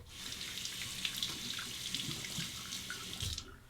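A Timor Gentle Butterfly safety razor is rinsed under a running faucet, giving a steady close rush of water into a sink that stops abruptly near the end, with no talking.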